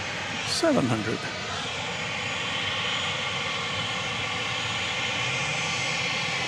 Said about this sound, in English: flight 4485 coming into view. It's going to Lubbock, Texas. It's a 737-700.